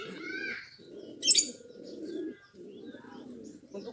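Low, rolling coos from a homing pigeon kept for high-flying competition, repeated in several phrases, with a brief sharp chirp and faint higher bird calls in the background, no talking.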